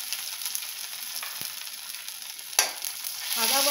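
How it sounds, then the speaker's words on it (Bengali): Ginger paste is dropped into hot tempering oil and stirred, giving a steady soft sizzle with a sharp spatter near the end as the paste hits the pan, close and without talk. "আদা বাটাটা দিয়ে একটু নেড়ে নেবো, খুব বেশি ভাজবো না।"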